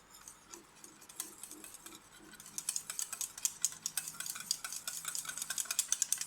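Yogurt mixed with pomegranate powder is whisked inside a lidded container, giving a rapid, steady run of close ticking and tapping strokes that grows busier and louder partway through, with no talking.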